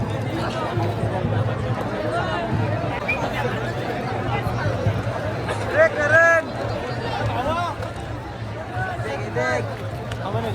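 Dense crowd of devotees chattering and milling about at the Ekvira Aai temple palanquin festival, a steady close hubbub of many overlapping voices with a low hum underneath.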